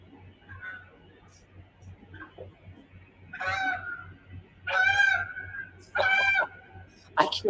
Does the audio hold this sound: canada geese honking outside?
yes